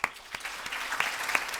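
Scattered hand claps ring out at a vampire ball in an audio drama, a modest round of applause from a small group with a few sharper claps standing out.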